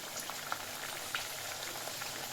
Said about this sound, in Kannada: ಹಾಗೆಯೇ ಫ್ರೈ ಮಾಡ್ಕೊಳ್ಳೋಣ ಒಂದೊಂದಾಗಿ.